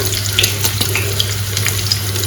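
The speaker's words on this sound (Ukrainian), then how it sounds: "Чуєте, як ну, шкварчить, шкварчить." Steady, crackling sizzle of meat patties frying in a hot pan, close and continuous with small pops, no voices.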